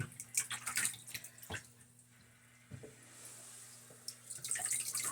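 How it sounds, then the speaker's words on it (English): Water drips from soaked, paste-backed beadboard wallpaper held up after being submerged, a few irregular splashes into water below with quiet gaps and a faint steady hum behind. "we're going to stand here and let it drip."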